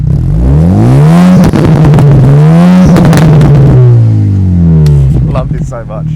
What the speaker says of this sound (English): Like it pops and farts in between, like changing flat out between third and fourth gear